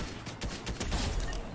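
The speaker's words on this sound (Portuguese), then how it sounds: "Eu vou usar essa AK aqui e vou quebrar o jogo" Rapid AK rifle fire in a Fortnite match rattles in dense, continuous bursts, loud and busy, with no talking over it.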